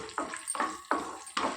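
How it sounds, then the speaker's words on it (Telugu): Cumin, mustard seeds, urad and chana dal, dried red chilli, curry leaves and peanuts frying in a pan for a tempering, heard as four distinct stirring bursts of crackling sizzle, close and moderately loud, with no talk. "1 స్పూన్ జీలకర్ర ఆవాలు, 1 స్పూన్ మినపప్పు శనగపప్పు, 1 ఎండుమిరపకాయ, కరివేపాకు, అలాగే కొన్ని పల్లీలు కూడా వేసి వేయించుకోవాలి."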